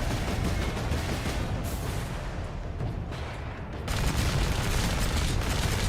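Heavy cannon fire from blast cannons in the Warhammer 40,000 video game, a continuous dense roar of blasts and explosions with rolling booms, dipping briefly midway before surging loud again.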